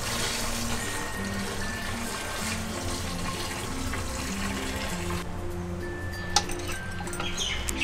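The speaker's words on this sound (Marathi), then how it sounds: "न हलवता हळूहळू पाणी काढून टाकायचं।" Water from soaked wheat is slowly poured off the settled wheat starch, with a steady close trickling and splashing that runs throughout and shifts in tone near the end.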